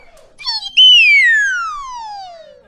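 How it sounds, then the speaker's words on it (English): Loud, close nose whistle: brief warbling notes, then one long pure tone gliding steadily downward in pitch. "It's also called a nose flute, and I am an excellent nose flautist."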